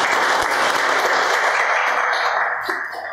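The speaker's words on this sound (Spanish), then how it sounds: "lo recibimos con un fuerte aplauso" Loud, dense applause from an audience at a university event welcomes a speaker, holding steady before tapering slightly at the end.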